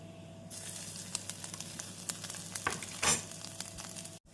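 Chana dal and grated coconut frying in a hot pan, a steady close sizzle with scraping stirring strokes and a brief louder hiss midway, no voices.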